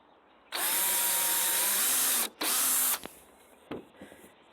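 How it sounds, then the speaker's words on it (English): A loud power drill whirs steadily for almost two seconds while pre-drilling holes in wood, stops briefly, then runs again before a few clicks and knocks close by. "step one, I think, is to pre-drill the holes"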